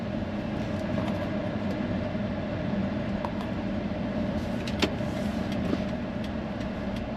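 A car cruising the highway toward Kill Devil Hills in the Outer Banks, heard as a steady, even road rumble from inside the cabin, with a few faint clicks and no talking.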